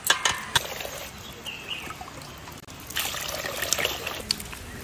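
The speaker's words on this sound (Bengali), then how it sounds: "চালটা একটু ধুয়ে নিই।" Rice being washed in water while cooking khichuri trickles and splashes softly, a close, continuous watery dribble with brief louder sloshes and no speech.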